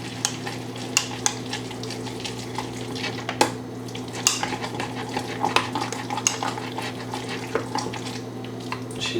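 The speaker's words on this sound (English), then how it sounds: "Go ahead and stir it in." A spoon stirs peanut butter pumpkin oat cup mixture in a cup, making irregular scraping and clinking taps close by over a steady low background hum.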